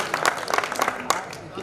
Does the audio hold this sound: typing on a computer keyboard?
no